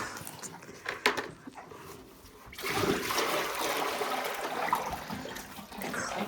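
Water pours and splashes steadily for cows to drink in a village setting, a continuous close gush with a brief dip partway through.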